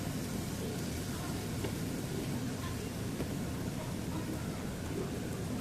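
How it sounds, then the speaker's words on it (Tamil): Grated coconut sizzles in a hot pan with ginger-garlic paste, a dense, steady frying crackle heard up close without a break. "தேங்காய் போட்டு நல்லா வணக்கிக்கோங்க."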